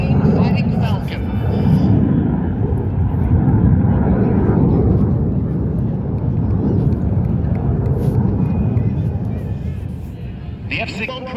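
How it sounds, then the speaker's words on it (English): F-16 Fighting Falcon fighter jet of the New Jersey Air National Guard's 177th Fighter Wing flying at the Atlantic City airshow, a loud, steady jet roar rising and falling over about eleven seconds with crowd babble and announcer talk underneath. "your New Jersey Air National Guard's 177th Fighter Wing, the F-16 Fighting Falcon"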